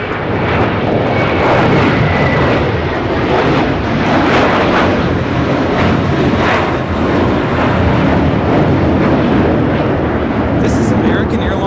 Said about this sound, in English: This is American Airlines 1595 taking off to Chicago on the A321